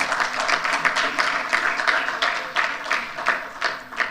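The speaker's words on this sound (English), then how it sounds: "another resounding round of applause for our debaters" Audience applause for debaters at an engineers' week debate hall, a steady sustained round of many hands clapping close by, with no talking over it.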